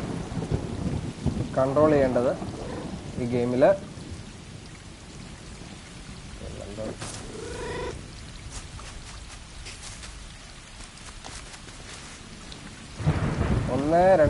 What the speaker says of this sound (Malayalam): നല്ല മഴയുള്ള ഒരു ദിവസം